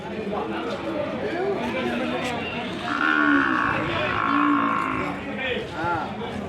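Young calves at a cattle market low in short mooing calls midway through, mixed into steady crowd chatter and nearby talking.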